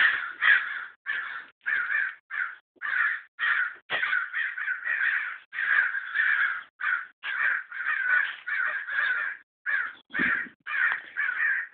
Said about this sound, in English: crows are going nuts.